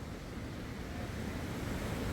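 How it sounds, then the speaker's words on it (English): Ocean surf at a large beach in the Porto region of Portugal, a continuous broad wash of breaking waves mixed with wind rumble, steady and fairly close, without speech. "I'm gonna enjoy the waves here."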